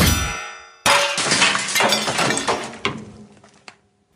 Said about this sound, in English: You sliced that bell clean in two.